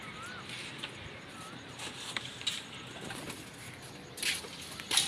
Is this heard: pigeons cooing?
yes